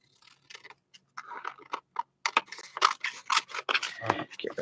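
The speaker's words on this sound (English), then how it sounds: "Get my big scissors." Big scissors snipping through watercolor paper in a series of short, crisp cuts that grow louder and quicker toward the end, with quiet sounds in between.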